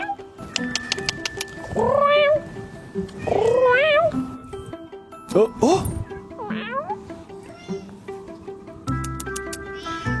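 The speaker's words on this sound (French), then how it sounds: "au coin de la rue, un chat" A street cat on a corner gives several drawn-out meows, fairly close and loud, separated by pauses, with people nearby reacting and speaking briefly.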